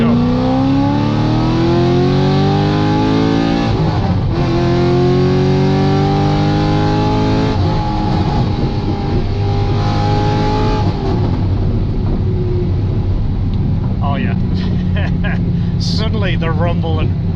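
A Chevrolet Corvette Z06 accelerates hard from a roll, its engine revving up through rising pitch with a loud, close rumble, then shifting and pulling again before settling as people talk near the end.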